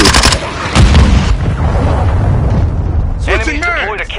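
A cruise missile strike in a military shooter game lands as heavy booms and rumbling blasts, loud and close, with radio-style voice chatter breaking in near the end.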